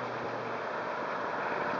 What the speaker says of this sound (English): Great sound. This thing's got a 350 in it.